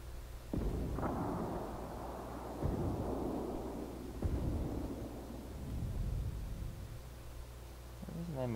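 Artillery fire in the World of Tanks video game, heard as several deep, booming blasts spaced a second or two apart, each rolling into a low rumble over a loud continuous background.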